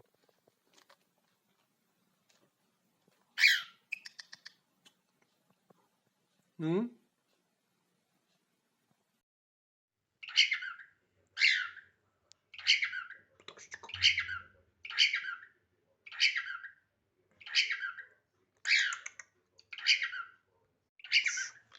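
A small bird chirps in quick bursts, first scattered, then a regular run of bright tweets about once a second; a person speaks briefly between them.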